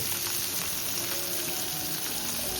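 Kharpun fish frying in hot oil, a steady, continuous crackling sizzle held close and even throughout, with no voices over it.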